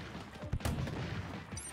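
A cannon in Splatoon 2 fires with sharp booming blasts, one strong shot standing out among quicker thumps, loud and close with no talk.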